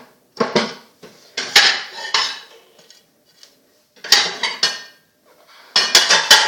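Bursts of clattering and clinking as a plate and metal cutlery are handled up close: several loud groups of scraping and knocking, separated by short silences, with no voices.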